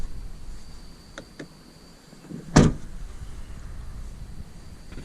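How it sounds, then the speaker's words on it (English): The trunk of a Subaru Crosstrek is shut with a single solid thud midway, preceded by a couple of faint clicks, against a quiet outdoor background with insect-like hiss. "what a great sound that is, just shutting the trunk"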